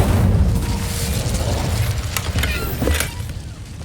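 A fire spell cast in the video game Hogwarts Legacy, heard as a loud whooshing boom that bursts at once and then rolls into a sustained crackling rumble, with a few sharper pops near the end.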